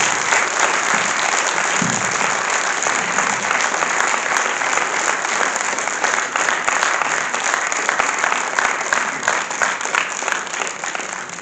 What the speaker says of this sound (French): Je crois que vous pouvez applaudir encore très fort et général Leclerc.